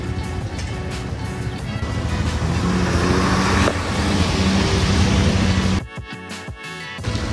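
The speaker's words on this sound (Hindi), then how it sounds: "ये देखिए लंबी कतार ट्रैफिक बहुत ज़्यादा है आज यहाँ पे" Heavy road traffic on the mountain route to Kedarnath, with a long queue of vehicles, gives a steady, loud engine rumble and roadside noise that drops abruptly near the end.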